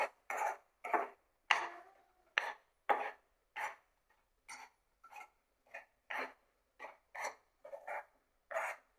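Semolina (rava) mixture for mango gulab jamun being mixed in a pan, a regular series of scraping, rasping strokes about one per half-second, close and quiet with silence between strokes.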